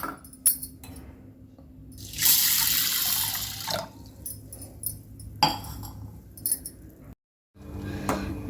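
Tap water runs into a vessel as toor dal lentils are set to soak in a home kitchen, a steady splashing stream with a louder burst in the middle, light clinks and a brief dog bark nearby.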